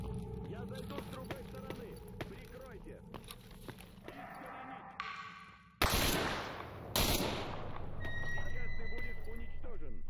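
Weapon fire in STALKER Anomaly, scattered light shots early, then two loud close bursts of gunfire with noisy tails in the second half, while a person talks.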